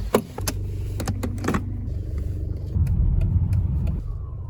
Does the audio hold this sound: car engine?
yes